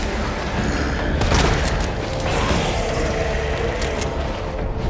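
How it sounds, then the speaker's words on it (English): Shotgun blasts from the Resident Evil 2 Remake as headshots take down zombies: heavy booming shots in quick succession with a clear burst near the start, over a dense, steady game background. "simply headshot the first 2 zombies with the shotgun"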